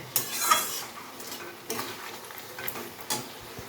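Sugar being stirred into vegetables cooking in a pot with a spoon: a few separate scraping strokes against the pot, close and fairly quiet, over a soft background sizzle.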